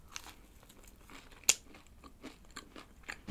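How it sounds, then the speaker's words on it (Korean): Someone bites and chews a crispy deep-fried soboro bun filled with red bean. Faint, close crunches and soft chewing come in scattered bursts, with one sharp crackle midway and another crunch at the end. "얘는 겉에 식감이 좀 바삭한 느낌"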